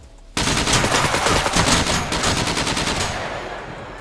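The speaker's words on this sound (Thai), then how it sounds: "มันยิงผ่านหน้าต่าง" Rapid automatic gunfire in the survival video game SCUM, with shots fired through a window. A loud, dense burst of repeated shots starts abruptly after a brief quiet moment and continues throughout, gradually easing in level.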